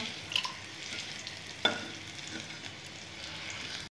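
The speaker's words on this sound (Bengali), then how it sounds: "এখন এই ফোড়নটা থেকে যখন একটু সুগন্ধ বেরোবে তখন আমি করব। ভেজে নিলাম।" Whole-spice phoron tempering frying in hot oil for a cucumber shukto, a faint, even sizzle throughout with a light stir and one brief tap of a utensil against the pan.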